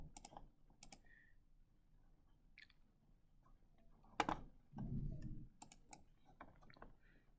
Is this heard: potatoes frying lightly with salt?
no